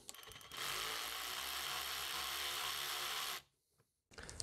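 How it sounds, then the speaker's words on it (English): Opening a hose clamp on the intake of a Ford Focus 1.0 EcoBoost at the mass airflow sensor, heard as a loud, close, continuous whirring tool noise that runs about three seconds and then cuts off abruptly. "Open up this hose clamp"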